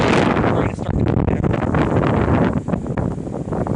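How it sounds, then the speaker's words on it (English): A strong hurricane gust from Hurricane Florence roars across an empty parking lot with trees nearby and rain falling, battering the microphone with loud, continuous buffeting that surges and dips over several seconds. "That's a pretty good wind gust right here."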